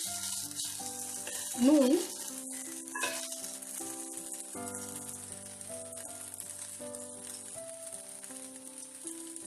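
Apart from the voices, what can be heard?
Maggi noodles frying with vegetables in a pan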